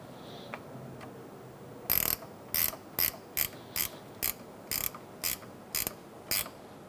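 Ratchet wrench tightening the negative battery terminal nut on a 2002-2006 Toyota Camry 2.4L, a steady run of about ten sharp clicks after a faint start, close and clear with no talk.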